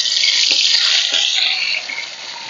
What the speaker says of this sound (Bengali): মাছগুলো লাল লাল করে ভেজে নিয়েছি